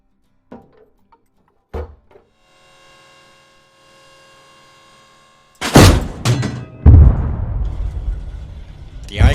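A tank fires a single shot in the Arma 3 combat game, a loud booming blast at mid-clip followed by a second heavy burst and a rumbling, noisy tail, after a few quiet thuds and a faint hum.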